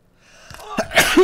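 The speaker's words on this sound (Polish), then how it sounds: "Zaraz będę musiał kichnąć." A man sneezes once, loud and close: a short rising intake of breath builds into a sharp explosive burst that trails off.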